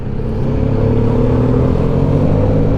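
A 310 motorcycle engine running close and loud, a steady, heavy rumble with a droning throb that holds without a break.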